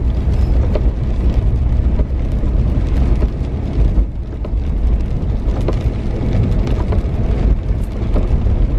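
Heavy rain pours down in a dense, steady roar of broadband hiss with scattered drop impacts, loud and continuous from start to finish.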